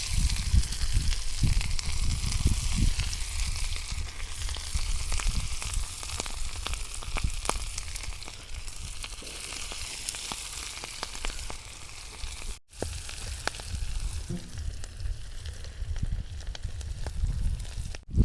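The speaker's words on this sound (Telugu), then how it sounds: "ఇలాగా ఆ అన్ని ముక్కలు కూడా మనం బాగా ఫ్రై చేసుకుందాం." Fish pieces frying in hot oil give a steady, dense sizzle with scattered crackles and pops, close and continuous throughout with a brief dropout near the end.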